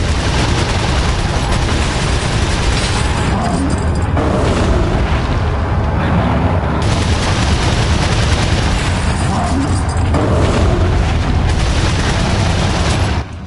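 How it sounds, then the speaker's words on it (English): TMP submachine gun fire in Resident Evil 4, loud, dense and sustained bursts with heavy booming layered through the whole stretch, nearly continuous until a brief drop at the end. "as soon as I fire a shot, I can let go of the firing button"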